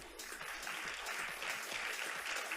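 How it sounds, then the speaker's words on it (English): A tech conference audience claps for its sponsors, a brief dense wash of applause heard from some distance, steady throughout. "So big round of applause for their sponsors."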